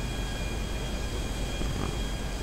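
A small airplane's engine drones in Grand Theft Auto V, a steady, close, continuous hum with no pauses or talk across the short stretch.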